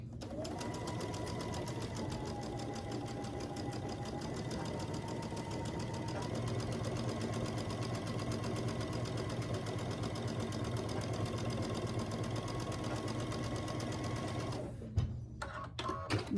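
Sewing machine stitching scrappy star quilt blocks together along a quarter-inch seam, a steady fast rhythmic whir running continuously and fairly quiet, cutting off with a few clicks near the end.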